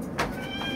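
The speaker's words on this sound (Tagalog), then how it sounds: "ilabas ko lang yung pusa ko" A pet cat gives a short, clear meow up close, followed by a fainter second mew, with no talking over it.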